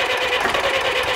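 German two-stroke prechamber diesel engine running steadily, a dense, buzzing mechanical drone heard up close with no pauses.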